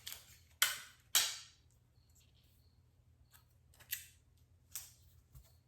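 Adhesive tape pulled and torn from a roll: three sharp ripping bursts early on, then two or three lighter tearing strips later, close and alone over a low steady hum.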